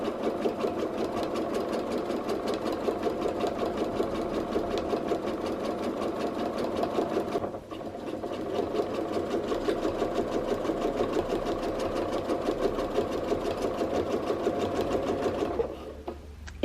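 A home sewing machine running steadily through free motion quilting stitches, a fast even mechanical whir and patter that carries on close and alone, with one brief pause midway before stopping at the end.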